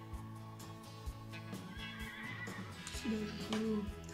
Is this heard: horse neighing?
yes